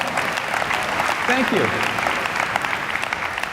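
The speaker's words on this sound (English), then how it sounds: "Give them a round of applause." Audience applause for volunteers at a motivational keynote talk, a steady wash of clapping, with a voice briefly speaking over it.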